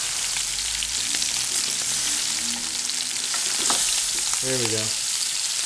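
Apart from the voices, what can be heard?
short ribs browning in a pan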